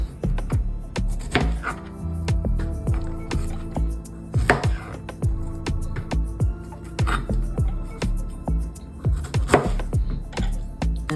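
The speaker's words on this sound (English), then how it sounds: "I'm just gonna go ahead and start cutting up my strawberries" A knife cutting up fresh strawberries on a board, a steady series of close, crisp chops and taps with soft squishy cuts between, repeating in an uneven rhythm with no talking.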